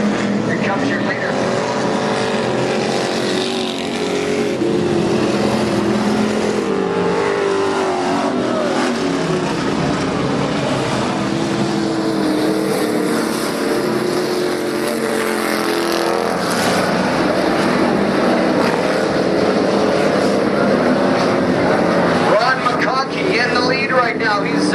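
IMCA stock cars race through a turn on a dirt track, engines roaring and revving continuously at close range, while an announcer talks over the noise.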